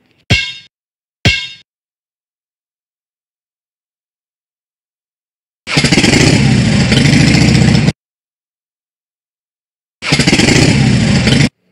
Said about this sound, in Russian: Это трактор.